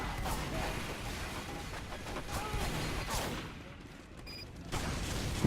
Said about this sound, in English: As you can see, this area top is just explosions everywhere.